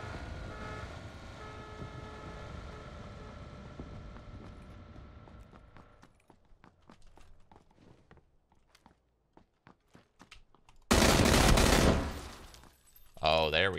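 Rapid bursts of M16 rifle fire in a shooter video game ring out in quick rhythmic clusters amid footsteps and game ambience, ending in a loud, dense close barrage.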